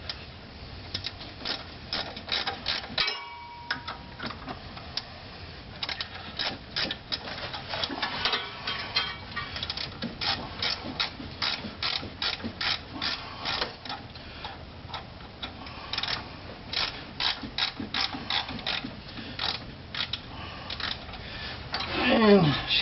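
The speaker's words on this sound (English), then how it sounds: "And I'll continue to pull this bolt out." A long bolt being unscrewed from a 1996 Ford F150 3G alternator during repair, giving a steady run of close, rapid ticking and clicking from the ratchet and threads that continues throughout, with someone talking intermittently over it.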